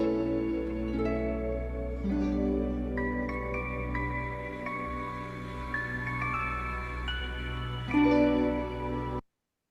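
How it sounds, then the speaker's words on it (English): Main theme music from Star Wars Skeleton Crew plays on its own, layered sustained orchestral tones with a melody stepping upward and a swell near the end before it cuts off abruptly. "here we have a main theme, and we actually hear it at the beginning of each episode"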